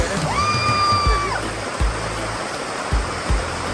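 Water rushing down Dunn's River Falls in Jamaica makes a dense, steady roar close by. A brief whistling tone rises early on, and a few soft low thumps come through.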